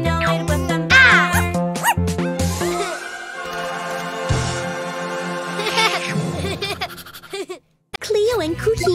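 Barking sits inside a bouncy, upbeat children's song, woven in among sung voices and bright music, with a brief dropout near the end.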